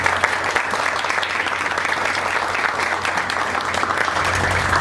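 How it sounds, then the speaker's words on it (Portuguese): An audience at the Talk UDC interview event claps steadily for a guest coming onto the stage, a dense, loud, even applause that holds without pause throughout. "Vamos receber com aplausos, por favor, Duane Teixeira ao Talk UDC."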